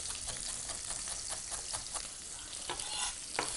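Lamb searing in a hot pan gives off a steady, close sizzle, with crackling spits and a few louder pops; no one talks.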